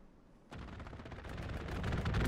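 Artillery fire in the video game Hell Let Loose, a sudden loud burst of rumbling, rapid impacts that breaks in after a quiet moment and keeps building in intensity.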